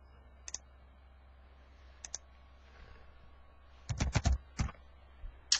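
Scattered clicks on a computer keyboard, a few isolated key presses followed by a quick burst of several keystrokes near the end, close and crisp over a faint background hum.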